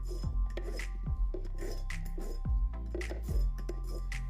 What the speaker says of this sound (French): avec une scie à métaux, il faut entailler l'endroit où le tuyau est serti